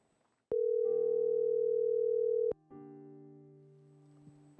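A telephone dial tone starts abruptly as a call is connected, a steady loud tone lasting about two seconds, cut off, then a second, quieter tone follows; there is no talk.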